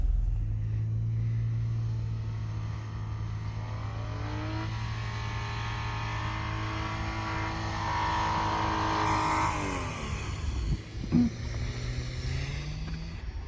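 Cars revving hard through deep snowdrifts on a mountain road between Tabatskuri and Bakuriani, a steady, loud engine drone that rises in pitch as the vehicle strains forward, with a sharp knock near the end.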